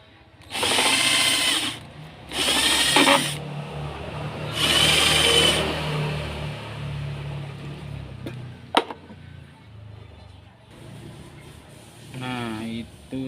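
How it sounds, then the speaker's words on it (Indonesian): An electric drill bores into a rice cooker lid in three short bursts, loud and close, followed by quieter handling noises, a sharp knock, and brief speech. "Kita bor bagian sini."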